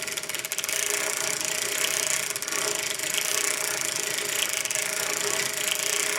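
A circular knitting machine is cranked around while casting on with netting, giving a steady, close, continuous ratcheting clatter with a dense mechanical rattle and no voice.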